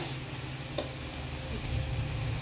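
Chopped vegetables hit a pan of hot oil with a little salt for jhatpat noodles, a quiet, steady sizzle with a brief clink of utensils.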